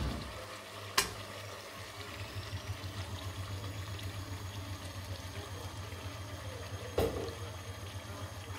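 Cashew, onion and tomato paste sizzles and fries in a pan for a dhaba-style chicken curry, a steady close hiss with two sharp clinks of a utensil against the pan.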